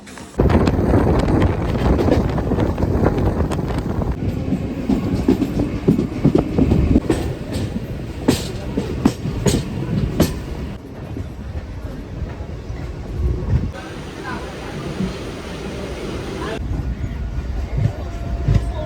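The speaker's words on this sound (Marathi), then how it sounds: "ट्रेन फायनली आलेली आहे" A train arrives and rumbles steadily through a station, wheels clattering over the rails with wind buffeting the microphone, loud and close for the whole stretch.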